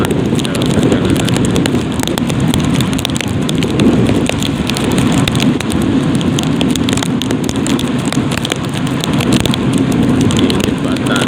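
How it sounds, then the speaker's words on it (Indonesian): Steady rain falls throughout on a rural village road during a drive, a dense continuous hiss with a low rumbling undertone of vehicle movement. "Ini karena hujan ya"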